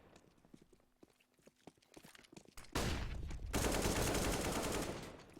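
Gunfire in a live-streamed competitive video game match, with scattered single shots early on and then a dense, loud burst of rapid automatic fire lasting a couple of seconds, close and dominant.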